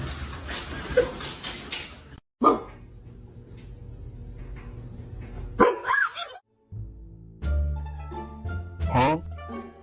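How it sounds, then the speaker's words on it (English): A dog at home gives a few short, sharp barks scattered among the chatter of a woman and a small child, with quiet gaps between the sounds. "Bark."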